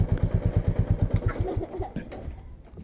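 A 2021 Royal Enfield Meteor 350 motorcycle engine runs close by with a loud, even single-cylinder thump that fades and settles toward the end.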